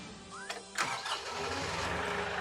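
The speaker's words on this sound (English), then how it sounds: "And that is step one into cranking the tractor." A KIOTI tractor's engine cranks briefly with the key, then catches and settles into a steady low rumble that holds at moderate loudness.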